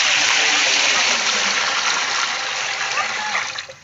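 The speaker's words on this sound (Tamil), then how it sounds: "தண்ணி ஊத்திக்கலாம்" Water gushes and pours steadily into a cooking pot at close range, a loud rushing splash that fades out near the end.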